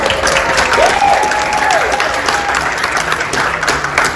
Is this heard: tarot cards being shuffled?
no